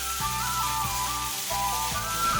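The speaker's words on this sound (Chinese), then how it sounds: "起锅烧热，锅中下油，将豆芽倒入锅中，" Bean sprouts hit hot oil in a wok and sizzle steadily, with a rhythmic scraping as they are tossed and stir-fried, a continuous close crackle with no voices.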